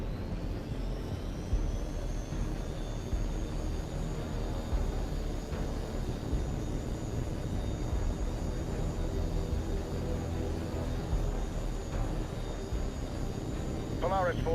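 In H.A.W.X 2, an aircraft in flight gives a long, steady jet-engine drone with a high whine running throughout, and radio-style voices talk over it.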